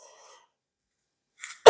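A single sharp cough, loud and close, bursts out at the very end after near silence and a brief breathy sound just before it.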